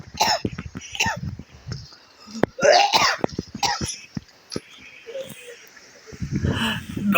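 A person with a cough hacks and clears their throat repeatedly and forcefully, close to the mic, mixed with their own talking.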